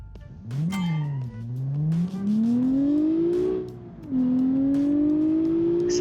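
A 1990 super sedan in a driving video game accelerates hard, its engine note climbing steadily through the gears with a brief drop at each shift, loud and close with no talking.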